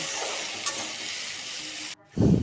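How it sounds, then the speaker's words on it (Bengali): Tomato, potato, onion and peas sautéed with spices in a pan: a steady, close hiss of sizzling oil that briefly drops out, then returns with a louder burst as the mixture is stirred, with no talking. "এখানে আমি টমেটো, আলু, পেঁয়াজ, মটরশুঁটি সবগুলো মশলা কষিয়ে নিচ্ছি।"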